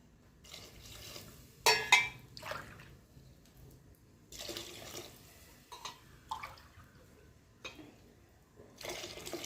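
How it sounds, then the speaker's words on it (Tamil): Water pours into a cooking pot of rice for kootan soru in several short bursts, splashing and trickling between quiet pauses, fairly close and moderately loud. "அரிசி இழந்த அந்த கிளாஸ்லேயே ஒரு ஆறு கிளாஸ் அளவுக்கு தண்ணி ஊற்றிக்கிடுவோம்"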